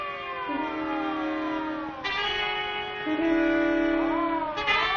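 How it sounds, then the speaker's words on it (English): Overlapping siren tones wail and shift in pitch, fairly loud and sustained, with layered warbling notes and no speech. "It's a siren. Probably an ambulance or a police car."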